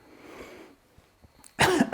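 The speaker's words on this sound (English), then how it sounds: "I apologize for my coughing." One sharp, loud cough bursts out near the end after a quiet stretch with faint murmuring, close to the microphone.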